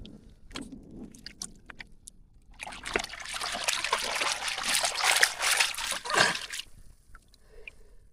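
A crab is rinsed in water, a few faint splashes and drips followed by several seconds of louder continuous swishing and trickling, then quiet dribbles.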